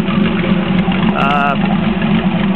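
A 2009 LS3 Corvette V8 engine idles on a shop test run, a loud steady rumble throughout with a speaking voice over it.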